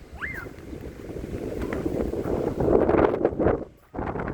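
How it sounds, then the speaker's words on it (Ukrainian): Wind buffets the microphone in steady low rumbling gusts, swelling louder near the end before a brief drop and return. "Кайфує Нінка, що такий вітер."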